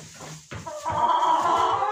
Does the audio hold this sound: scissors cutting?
no